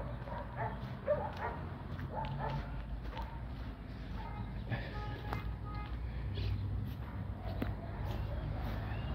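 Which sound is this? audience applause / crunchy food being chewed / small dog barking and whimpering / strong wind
small dog barking and whimpering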